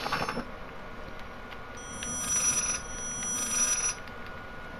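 A phone rings in the horror game Layers of Fear with a thin, high electronic ring repeated in a few spaced bursts over a faint background hum.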